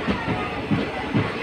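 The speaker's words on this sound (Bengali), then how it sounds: "New Bongaigaon two Siliguri junction DMU special train." A DMU special train running from New Bongaigaon to Siliguri Junction passes at Agamoni station. Its wheels beat out a loud, close, rhythmic clatter over a deep rumble, with a heavy thump roughly every half second.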